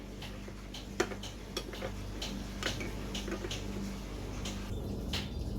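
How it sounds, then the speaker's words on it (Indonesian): A spoon stirs cornstarch into a litre of water for pumpkin layer pudding, making soft repeated clinks and ticks against the container, light and irregular over a low steady hum. "Kita masih memakai air 1 liter ini. Lalu kita akan aduk."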